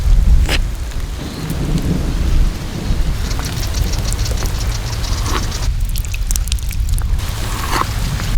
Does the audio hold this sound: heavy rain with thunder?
yes